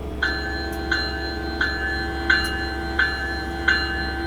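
A locomotive bell in the Train Simulator Classic game, heard from inside the cab, rings steadily, six evenly spaced clangs over a constant low engine drone, fairly close and clear.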